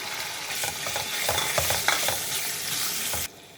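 Cubed chicken sizzles and crackles in hot oil with garlic while being stirred, with scraping clicks of a utensil against the pan, then the sizzle drops away abruptly.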